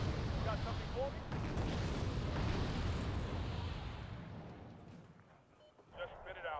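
Artillery firing smoke rounds in a war video game, a continuous rumbling roar of distant blasts and booming that fades toward the end, with a voice talking briefly over it.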